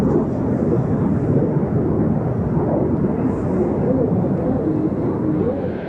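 Turkish Stars aerobatic jets at the Ostrava NATO Days air show, a loud steady roar of jet engines sustained throughout as the formation passes.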